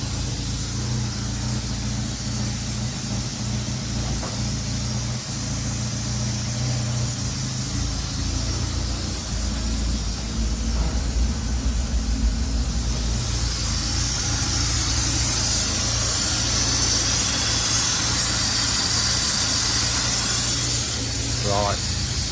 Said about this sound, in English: You can see it's a fabulous engine, no smoke, dead quiet